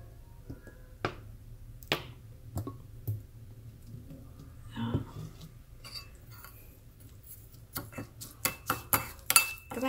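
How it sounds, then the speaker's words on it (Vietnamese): A utensil clinks against a bowl while a marinade of oyster sauce and pepper is mixed for air-fried crispy-skin pork. A few spaced taps come first, then a quick run of sharper clinks near the end, with no talking. "Các bạn sẽ trộn đều cái hỗn hợp này lên nhé."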